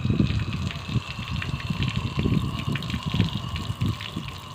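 Water is poured over a bathing rock pigeon, a steady gushing splash that runs unbroken and fairly loud, with flutters of movement in the flow and no talking.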